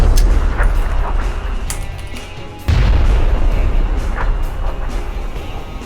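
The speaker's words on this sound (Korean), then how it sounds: "수류탄 날라오고는 있는데 저 괜찮겠지?" Grenades go off in a battle royale video game, heard as repeated booming blasts over a continuous rumble of game noise, with a heavy burst midway and scattered sharp pops after it.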